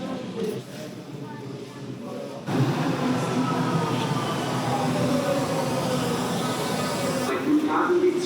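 A Berlin U-Bahn train pulls into an underground station, a sudden swell of rumbling, whining rail noise that holds steady and loud, with voices talking faintly beneath it.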